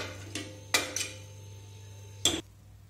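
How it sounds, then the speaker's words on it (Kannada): Radish sambar served into a serving bowl: a few sharp metallic clinks of a ladle against the vessel, spaced irregularly, close and fairly quiet with no talk. "ಸರ್ವಿಂಗ್ ಬೌಲ್ಗೆ ಸರ್ವ್ ಮಾಡ್ಕೊಳ್ಳೋಣ"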